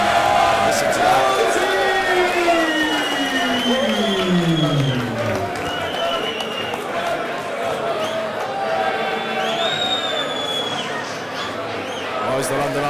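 Crowd at a white collar boxing bout at the London Irish Centre cheers and whoops loudly throughout, a dense lively roar with shouts and whistles rising over steady hubbub as a boxer enters.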